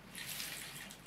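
Gold pan being dipped and rinsed in Gold Rush, with soft, continuous water sloshing and trickling, faint and close, no voices.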